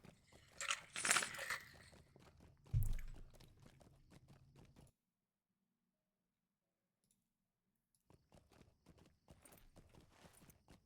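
Horse hooves clopping at a steady walking rhythm while riding in the online game Lord of the Rings Online, fairly close and clear, with a few seconds of near silence in the middle before the clopping resumes.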